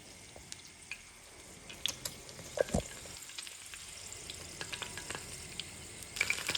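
Mustard seeds and curry leaves crackle in hot oil for a tadka, a fizzing sizzle with scattered sharp pops and spits that grow busier toward the end.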